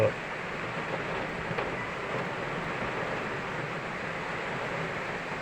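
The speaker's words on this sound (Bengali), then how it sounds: "অনেক জোরে বৃষ্টি হচ্ছে, অনেক জোরে, প্রচণ্ড বৃষ্টি হচ্ছে" Heavy rain pours steadily during a downpour in Tripura, heard from inside a house as a dense, continuous broadband roar that stays loud and even throughout, with no pauses or talk.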